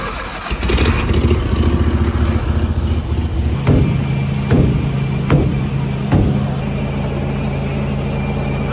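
A backhoe's diesel engine runs steadily in a yard, a loud close rumble with a few sharp knocks or clanks breaking through near the end, and no voices.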